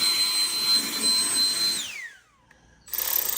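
A small inducted-fan air blower whirs with a high, steady whine during lawn mower tune-up work, then spins down with a falling pitch to near silence before starting up again at full speed.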